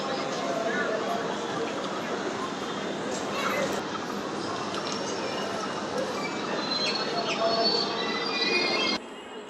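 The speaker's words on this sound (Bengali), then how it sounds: "আসামের রাঙাপাড়া নর্থ থেকে কলকাতা যাওয়ার ট্রেন অন ডিমান্ড স্পেশাল এবার ছেড়ে দিচ্ছে" A Rangapara North to Kolkata on-demand special train pulls out of Krishnanagar City Junction, a steady rumble of rolling wagons with faint squeals and station noise, a voice talking over it.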